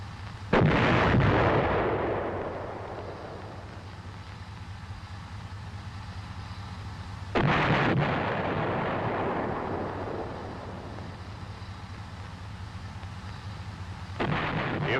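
An M551 Sheridan main gun fires HEAT rounds: three loud, booming blasts about seven seconds apart, each trailing off in a long rolling decay, with no voices.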